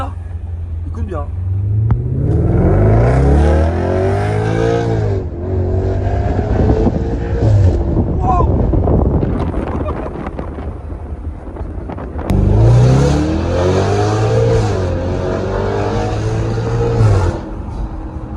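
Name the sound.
432-horsepower car engine revving and accelerating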